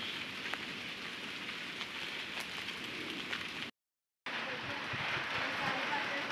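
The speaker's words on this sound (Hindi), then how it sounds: "अब दोबारा बारिश शुरू हो चुकी है" Steady rain falls in a village, a dense continuous patter of drops on surfaces close by, broken by a brief dropout of silence before the downpour resumes just as strong.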